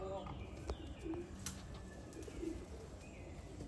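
Racing pigeons coo softly in a loft, several low, short coos spread through the clip amid faint chirps and rustling, with people talking quietly nearby.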